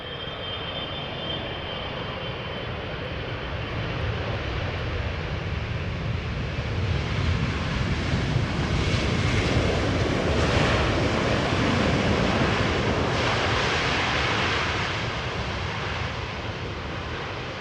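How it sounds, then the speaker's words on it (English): A ten-year-old KLM Boeing 777-300ER touches down at Amsterdam Schiphol after an almost eleven-hour flight from Cape Town: a loud, broad engine roar that swells through the middle and slowly eases, with no voices. "777-300 ER, 10 years old, first flight May 2013, and touching down now after almost 11 hours of flying"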